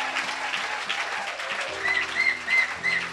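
Hands clap together in a church service, a brief burst of congregational applause with a few sharp accents near the end, moderately close and loud, with a faint voice underneath.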